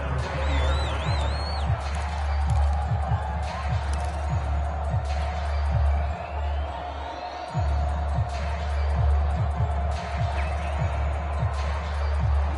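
Stadium crowd noise at a simulated American football game, Eagles versus Texans, a steady loud roar of spectators with scattered bursts, running continuously under a commentator's voice.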